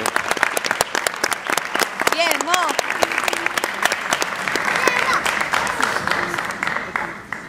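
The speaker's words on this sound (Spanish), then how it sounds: "Fuerte el aplauso." Sustained applause fills a university graduation ceremony hall, steady crackling clapping from a crowd continuing for several seconds, with a voice speaking briefly over it early on.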